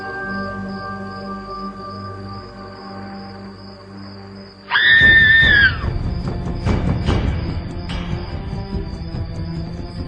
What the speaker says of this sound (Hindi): दर्दनाक चीख थी।